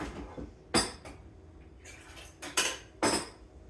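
Dishes and cutlery clink in a home kitchen while a cup of coffee is fetched: several sharp, close clatters of crockery and silverware spaced a second or so apart, with quiet handling between them.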